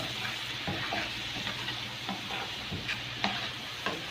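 Ingredients stirred together in a frying pan, a continuous low sizzle broken by repeated light scrapes and taps of the spoon against the pan.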